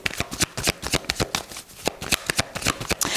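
Tarot cards shuffled steadily by hand, a rapid run of crisp riffling flutters and soft slaps, close and fairly loud, with no talking.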